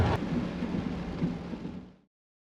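Rain falls with a low rumble of thunder beneath it, a steady broadband wash at moderate level around an RV on moving day, cutting off abruptly after two seconds.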